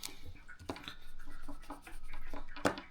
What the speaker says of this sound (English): you just have to fold one side up